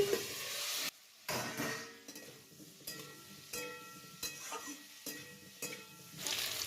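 Broccoli frying lightly in oil in a pan gives a soft, close sizzle that is repeatedly interrupted by clattering scrapes and knocks of a spatula or lid, with no talk.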